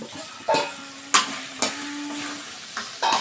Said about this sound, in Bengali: এবার আমি ভেজে রাখা মাংসগুলো দিয়ে দেব